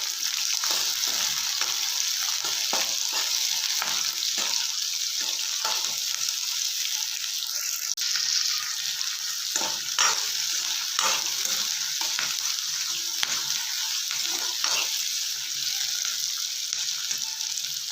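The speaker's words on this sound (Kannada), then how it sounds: "ಈರುಳ್ಳಿ ಕಲರ್ ಸ್ವಲ್ಪ ಚೇಂಜ್ ಆಗೋವರೆಗೆ ಹುರ್ಕೊಳ್ಳೋಣ" Onions fry in a pan for a North Karnataka-style brinjal palya, giving a steady, close, bright sizzle throughout. Repeated scraping strokes of a stirring spoon sound over it with no talking.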